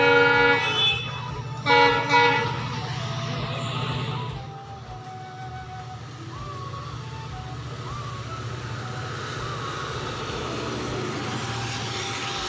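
A train pulls into a station at Gariakuthi near Rangia, opening with a couple of loud horn blasts, then a long steady rumble and clatter of wagons rolling past nearby.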